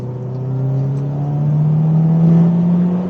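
Engine of a Subaru Impreza WRX STi Spec C Type RA widetrack driven on a winding road, a steady close drone that rises gradually in pitch as it accelerates, continuous and loud with no voices.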